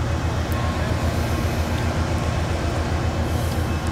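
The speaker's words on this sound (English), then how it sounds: "Well, we're departing from Charlottesville, Virginia." A passenger train departs Charlottesville, Virginia station, giving a steady low rumble of rolling wheels and the car interior, with no distinct breaks across the short stretch.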